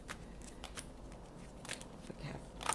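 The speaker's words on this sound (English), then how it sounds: "I don't know why I keep shuffling" Tarot cards are shuffled by hand in a quiet indoor room. Soft, papery riffles and slides come in scattered bursts throughout, faint and close, with no talking.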